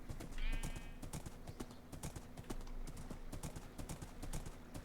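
Horse hooves clip-clop steadily in a video game as a mount trots through open countryside, the regular hoofbeats loud and close throughout, with a brief whinny near the start.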